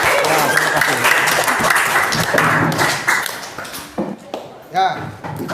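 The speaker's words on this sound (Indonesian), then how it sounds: "tepuk tangan untuk kita semua" Applause and clapping from a classroom audience during a teacher-training session in Indonesia, a dense burst that tapers off near the end, with voices talking over it.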